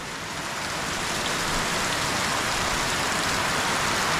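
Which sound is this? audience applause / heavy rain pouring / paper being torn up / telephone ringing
heavy rain pouring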